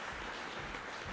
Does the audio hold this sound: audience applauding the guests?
yes